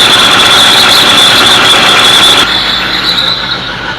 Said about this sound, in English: Maybe it's the generator screaming away.